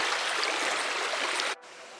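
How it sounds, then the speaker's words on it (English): A river in Las Marias rushes in a steady, close hiss of flowing water, then cuts off abruptly near the end. "Just this river as you flow, it's so soft"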